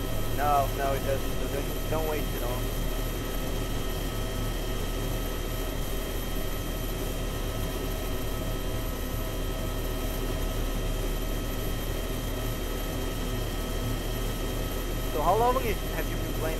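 A helicopter in the video game DayZ drones steadily throughout with a constant engine and rotor hum, while players talk over it and a few brief chirps break in.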